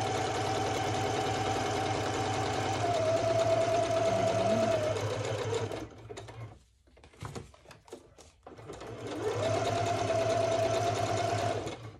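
A sewing machine stitches through fabric in a steady, fast mechanical whir with a humming motor tone, stopping briefly for a few sparse clicks and handling sounds before the stitching starts up again.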